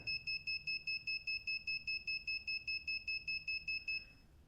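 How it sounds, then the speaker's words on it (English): A phone's motion-detection alarm sounds as a rapid train of shrill, evenly pulsed electronic beeps, loud and steady for about four seconds before cutting off. "so the alarm is active. If it detects any motion, it will go."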